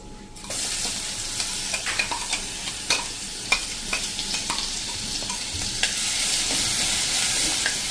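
Spices with ginger-chilli paste sizzle in hot tempering oil over a medium flame, a steady frying hiss broken by repeated scraping clicks of stirring.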